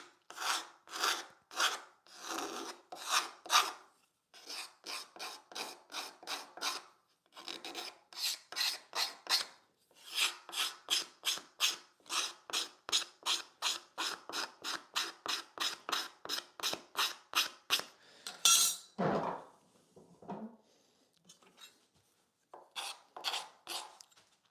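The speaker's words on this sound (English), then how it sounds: "it takes a little more time on this end grain to get the scratches from that rasp gone." A hand rasp files the end grain of a wooden leg during shaping, making dry, rhythmic scraping strokes in steady bursts, close up and alone, with short pauses between runs.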